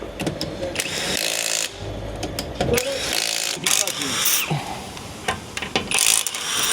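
A Tekhmann TIW 610i20 cordless impact wrench hammers at a wheel nut in rapid rattling bursts, with clinks of metal between them and someone talking over part of the work.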